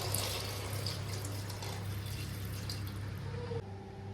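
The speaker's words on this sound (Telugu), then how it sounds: "మనం ముందుగా నానేసుకున్న చింతపండుని తీసుకొని వాటి నీటిని అందులో వేద్దాం" Soaked tamarind water pours into a pot of homemade sambar, a soft, steady splashing trickle that stays faint over a low hum.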